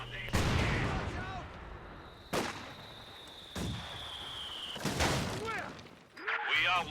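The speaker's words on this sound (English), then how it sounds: "I think a mortar's about to shoot on that squad" A mortar in Company of Heroes 2 fires and strikes near an infantry squad, with several sharp booming impacts spaced a second or so apart, scattered battle noise in between, and a voice talking over the action.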